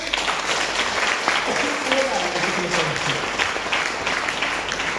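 Applause from an audience at a network marketing meeting, rising on a presenter's call. Steady, fairly loud clapping fills the whole stretch, with a voice and crowd murmur running underneath.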